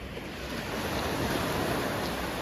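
Rough, stormy sea surf roars steadily, a dense wash of breaking waves with wind mixed in, loud and continuous.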